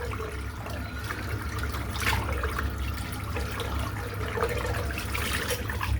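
Running water rinses soap out of a shaving bowl, a steady faint splashing and trickling stream with no voice over it.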